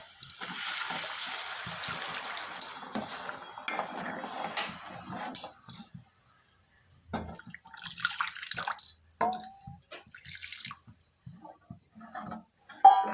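Hot water pouring and splashing into a pan of fried masala for several seconds, then fading into scattered clinks and drips, close up with no talking.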